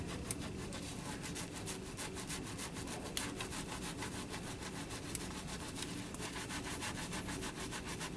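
Hands are scrubbed at a sink in quick, rasping back-and-forth strokes, close up and continuous, with a dense, steady rhythm that resembles brisk sawing or filing.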